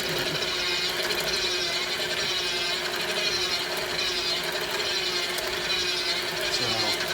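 Pound cake batter is mixed in a bowl with steady, continuous scraping and churning, a close, even rasp that holds without pause throughout.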